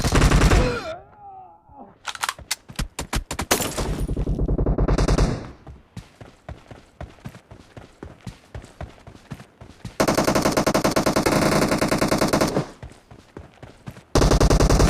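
Gunfire in PUBG: loud bursts of automatic fire and rapid single shots crackle close by, with short pauses between volleys and a sustained stretch of continuous shooting near the end.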